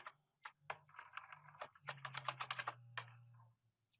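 Quick bursts of keystrokes on a computer keyboard, entering a short search phrase, come clicking in close with brief pauses between words and a faint steady hum underneath.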